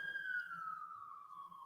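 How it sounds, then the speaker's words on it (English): A siren wails outside a studio with its door left open, heard through the room as a steady, slowly falling tone that carries faint and distant for the whole stretch. "you can hear the sirens"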